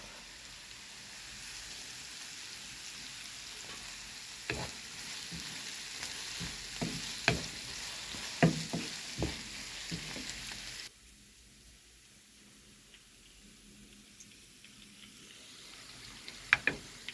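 Onions with garlic and salt frying in a pan, with a soft steady sizzle and scattered crackles and utensil taps that ease into a quieter hiss partway through.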